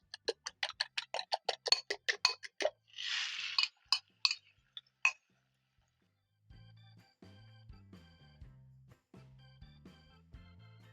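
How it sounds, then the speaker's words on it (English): Eggs whisked with salt and black pepper in a bowl make a quick series of sharp clinking taps up close, then a short burst of rattling. Quieter clattering knocks follow after a pause. "Whisk and transfer to my pan."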